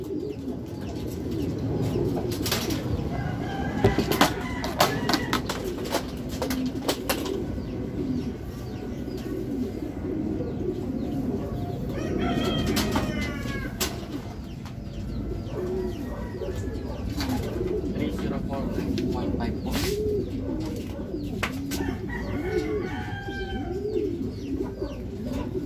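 Racing pigeons returning to the landing board of a loft during a fun race, soft cooing throughout with occasional wing flaps and background noise, no talking.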